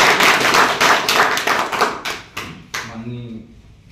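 A crowd at a Lineman Day event claps loudly and briskly, individual hand claps fading and thinning out toward the end as a voice begins speaking.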